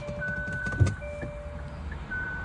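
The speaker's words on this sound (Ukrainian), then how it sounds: "Я його запускаю, включаємо драйв." A Hyundai Ioniq electric car, imported from Norway with 166,000 km and a power-loss fault, starts up and is shifted into drive: soft electronic chimes and tones, a brief click, and a low interior hum, with no talking.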